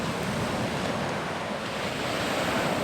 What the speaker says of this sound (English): listen to the sound of the waves crashing through the rocks at Torrey Pines